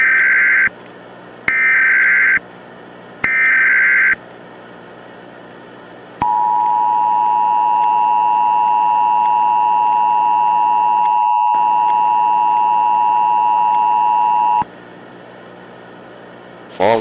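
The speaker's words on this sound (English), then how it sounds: "will shortly deliver a message over the emergency alert system" An emergency alert system tone plays loud and alone: three short, buzzy beeps, then a long steady electronic alert tone that holds for about eight seconds before cutting off.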